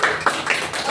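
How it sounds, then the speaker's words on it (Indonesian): A short burst of hand clapping for a child named Juni in a classroom, a few quick close claps lasting about a second. "Kita kasih aplaus untuk Juni."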